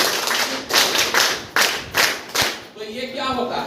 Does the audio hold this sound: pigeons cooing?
no